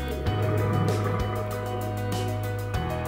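Scuba divers' bubbles underwater, repeated bursts of bubbling exhaust that come in waves over a low steady hum, close and fairly loud, with no speech.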